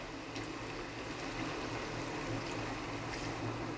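Water pours steadily into chicken kulambu simmering in a pan, giving a continuous close splashing and hissing wash that runs through the whole moment with no talking.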